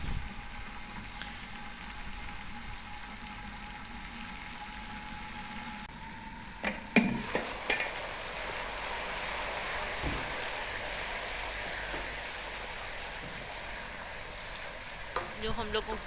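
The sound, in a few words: onions frying golden brown in a pan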